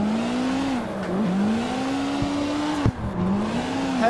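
Tires squeal under hard braking on a car in the CarX Street racing game, a steady drawn-out screech with a wavering pitch over a constant engine drone, loud and close throughout.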